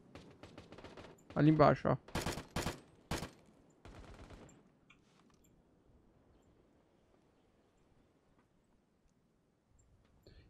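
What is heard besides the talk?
gunfire in a video game shooter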